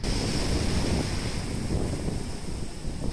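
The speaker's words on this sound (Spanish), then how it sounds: "comenzó a generar el fenómeno de mar de fondo en playas de Michoacán" Heavy ocean swell from Tropical Storm Carlos pounding the Michoacán coastline, a continuous loud roar of surf and wind with no pauses, close by and unbroken throughout.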